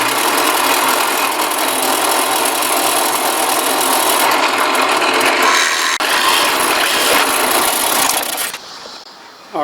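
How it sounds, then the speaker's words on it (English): A power drill bores through a wooden workpiece for a Silky saw blade handle, a loud continuous grinding whir that holds steady for about eight seconds before cutting off. "Didn't drill all the way through"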